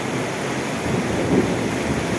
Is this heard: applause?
no